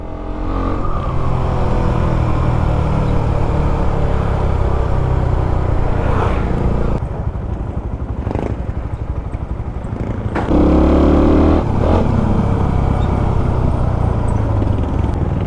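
A Suzuki Raider 150 motorcycle fitted with a Vmax racing exhaust revs hard and loud, close by, with sustained throttle, brief drops and sharp climbs in engine note.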